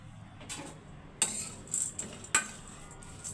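Roasted black sesame seeds tipped into a bowl for a diet recipe, heard as a few short, light clinks and a brief pouring rattle, close and fairly quiet with no talking.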